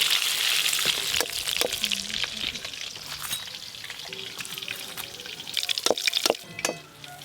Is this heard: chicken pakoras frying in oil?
yes